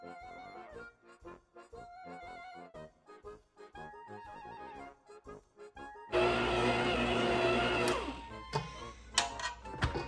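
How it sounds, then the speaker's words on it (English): A stand mixer with a bread hook kneads bread dough, a motor whirring with a rhythmic knocking, first in choppy starts and then a louder steady hum from about six seconds on that cuts off near eight seconds. "let the bread hook work it into the dough"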